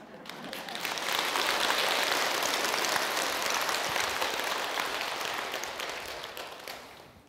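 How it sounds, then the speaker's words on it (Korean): A crowd at a Buddhist winter solstice prayer service claps loudly and continuously, the sound swelling in over the first second, holding full and dense, then fading out at the close. "박수를 크게 치면 건강에도 좋답니다"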